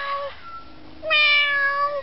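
A parrot imitates a cat's meow, giving two close, clear meow-like calls: a short one, then a longer one with a rising and falling tone.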